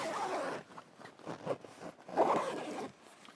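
A heavy oversized zipper on a camping awning is run back and forth in several quick strokes, close up, with rasping pulls and short pauses between them.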